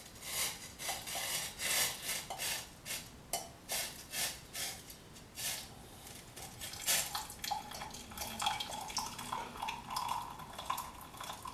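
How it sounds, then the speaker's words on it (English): Hot green tea poured from a kettle into a teacup: an irregular run of splashy, trickling pulses, close and fairly quiet, with no talking. "Pour it into this teacup right here."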